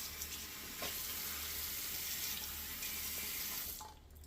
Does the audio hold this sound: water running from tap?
yes